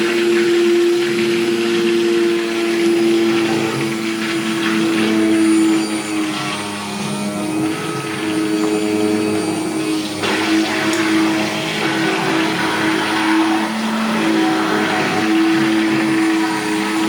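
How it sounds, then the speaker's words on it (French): An electric hand blender churns thick soap paste, a loud steady whirring drone with a shifting pitch as the motor works the mixture, continuous with no talking. "Je vais lui donner juste un petit coup de mixeur."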